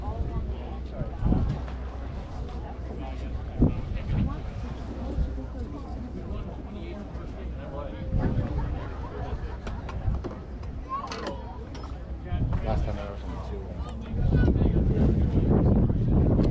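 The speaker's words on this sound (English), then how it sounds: "as you can hear, it was very windy at the flea market this time" Gusty wind buffets the microphone at an outdoor flea market at Stormville Airport, New York, with low rumbling thumps that swell louder near the end, while a person speaks briefly underneath.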